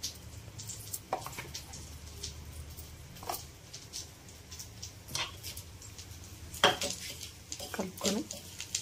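Eggplant pieces tossed and mixed with salt and chili powder in a metal pan or bowl, quiet scraping and clinking of a spoon with faint patter and occasional louder knocks.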